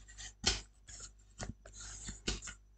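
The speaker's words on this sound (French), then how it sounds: "Donc je viens bien marquer les plis." Scrapbooking paper being folded and its creases pressed firmly, heard as several short, close papery rubs and crisp swipes in bursts, with quiet pauses between them and no talking.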